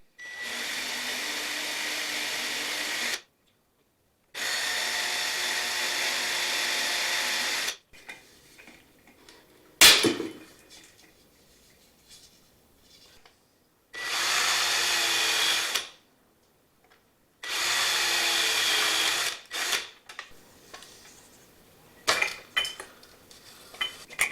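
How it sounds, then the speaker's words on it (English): A power drill whines in several sustained bursts of a few seconds each, drilling out rivets on an Eames floor lamp, separated by pauses filled with metallic clinks and handling noise. "we'll start by drilling out the rivets"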